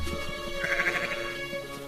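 Sheep bleat in a wavering call, with a few overlapping bleats from a small flock at moderate distance over a steady low background hum.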